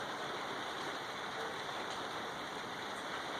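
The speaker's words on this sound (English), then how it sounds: "You can hear the rain outside." Rain falls outside during a grain-to-glass home brewing session of a wheat ale, as a steady, even hiss. It stays faint and continuous throughout, with no talk.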